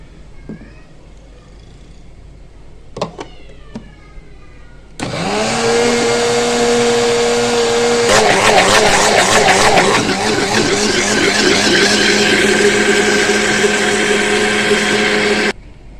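An electric grinder whirs loudly as it grinds green chillies and spinach, starting abruptly after a few faint clicks and cat-like meows, its pitch dropping as the load bites in, then running steadily before cutting off.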